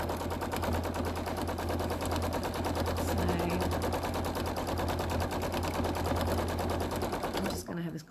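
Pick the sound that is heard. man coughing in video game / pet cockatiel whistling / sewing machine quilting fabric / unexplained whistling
sewing machine quilting fabric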